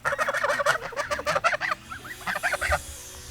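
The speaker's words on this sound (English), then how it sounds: "Look at that Muscovy." A Muscovy duck gives a rapid run of loud, nasal, gobbling honks close by, followed by a shorter second burst after a brief pause.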